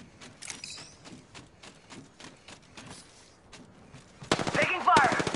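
Gunfire in the video game Apex: a fast rattling burst of rapid shots, moderately loud, followed by a louder, denser volley with whizzing and impact sounds near the end.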